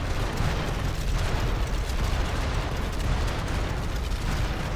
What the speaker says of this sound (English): They make some healthy ass explosions too.